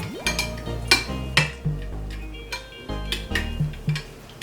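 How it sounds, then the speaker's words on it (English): Spare rib ingredients being mixed in a bowl, with repeated clinks and scrapes of a utensil against the dish in an irregular stirring rhythm, close and fairly clear with no talking. "Mix it all in."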